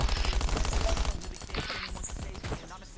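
Dense, rapid bursts of automatic gunfire in the survival video game Last Island of Survival, loud for the first second and then thinning into scattered shots while someone talks.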